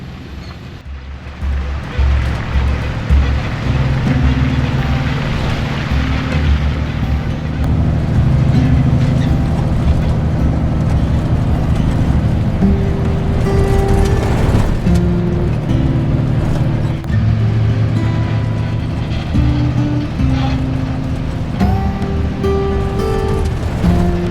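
A truck drives along a wet forest road, its wheels spinning now and then, producing a loud, continuous engine and tyre rumble with splashy road noise and no talking.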